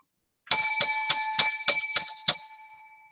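Seven bright, evenly spaced bell rings in quick succession, crisp and metallic like a bicycle bell, each ringing out over silence and the last one left to fade.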